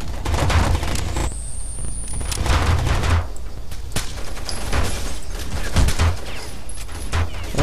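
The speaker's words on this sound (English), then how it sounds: "I'm getting shot a lot" Gunfire in the Rainbow Six Vegas shooter game: sharp rapid bursts and single shots crack repeatedly, loud and close, with automatic fire running nearly throughout.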